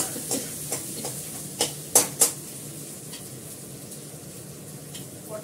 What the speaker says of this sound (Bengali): পটলটা ভেজে নিই, তারপর করলাটা ভাজবো